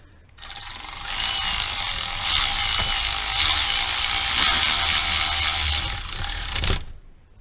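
A hand ratchet spins and clicks steadily for several seconds, driving a 10 millimeter bolt on a valve cover bracket of a 6.0 Powerstroke diesel engine, loud and close with no talking.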